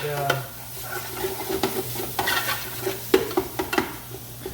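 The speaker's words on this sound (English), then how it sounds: "this is just browning the sausage" Sausage sizzling as it browns in a pan, with a spatula scraping and breaking it into smaller pieces now and then, close by and fairly quiet.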